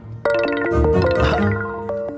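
A telephone ringtone plays a bright, chiming electronic melody of quick repeated tones, close and fairly loud, lasting about two seconds in an indoor film scene.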